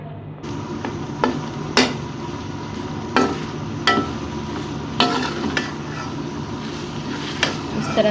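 Rice being stir-fried with cooked vegetables and black pepper in a pan, a constant sizzle with a series of sharp spatula clanks against the metal at irregular intervals.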